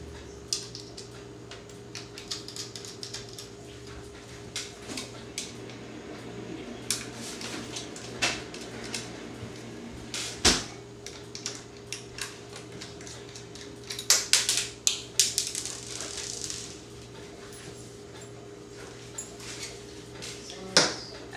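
Small screws being backed out of the side mounts of a PS3 hard drive bay during a console repair, giving scattered light metallic ticks and clicks over a steady low hum, close and fairly quiet.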